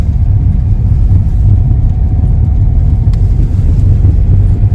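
A car drives along a cleared village road in wet snow and wind, its steady low engine rumble and tyre noise loud and continuous, with no talking.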